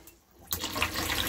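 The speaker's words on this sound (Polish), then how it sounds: "I również mamy wodę" Water gushes from a tap in a caravan bathroom, starting abruptly midway and running steadily and fairly close, with no talking.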